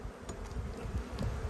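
Agitated honeybees in a dwindling Australian hive give a brief, faint, steady buzz that hums up close without any talk.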